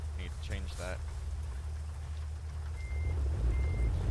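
A truck in American Truck Simulator idles with a low steady engine drone, while a reversing beeper chirps twice near the end and a voice talks over the start.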